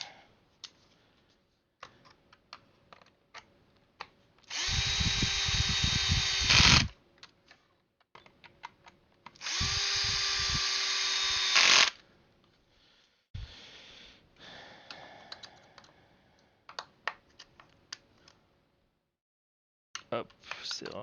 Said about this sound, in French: je vais les descendre gentiment avec le tournevis